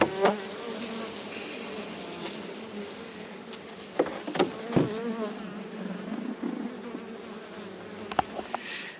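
Honeybees buzz around an open nuc hive, a continuous close drone with individual bees swelling past the microphone in short louder passes.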